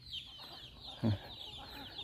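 Chickens in a flock foraging near a rice field cluck softly, with one louder low cluck in the middle of a short stretch of outdoor ambience.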